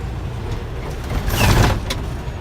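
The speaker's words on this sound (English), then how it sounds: "Push in both brake valves, let my air settle" Air brake valves on a truck are pushed in inside the cab, releasing a short rushing hiss of air that swells midway and fades as the pressure settles over a low idling rumble.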